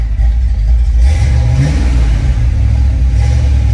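Car engine rumbles loud and close as it pulls away down a road, a deep low growl that rises in pitch while accelerating, then settles into a steady drone with no voices.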